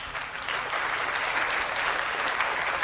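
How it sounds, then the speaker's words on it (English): A crowd at a Saturday night show gives a round of applause, a steady, fairly dense patter of clapping that holds evenly for a few seconds without talk. "Ladies and gentlemen, round of applause for SMRLABS777."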